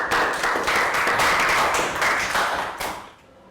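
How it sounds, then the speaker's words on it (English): A short round of applause from students in a Year 3 math classroom, close and fairly loud with distinct hand claps, fading out after about three seconds. "Round of applause"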